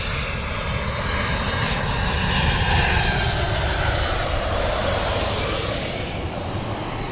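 A fixed-wing airliner passes low overhead on approach to runway 09 at East Midlands Airport, a loud, steady, broadband engine roar with a slowly shifting pitch that fills the whole stretch, with no talking.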